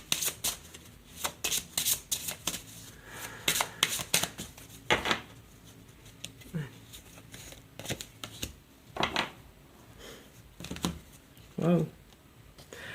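Oracle cards are shuffled for a reading, producing repeated crisp riffling bursts in irregular rhythm that are close and clear, with someone speaking softly in French in between.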